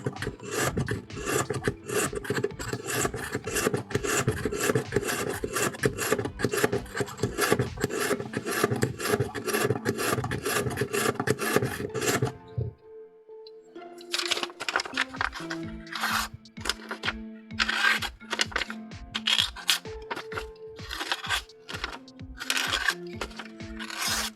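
A knife is drawn through a ceramic knife and scissor sharpener in quick, regular rasping strokes, first a fast dense run, then a brief pause, then slower spaced scrapes, all close and clear.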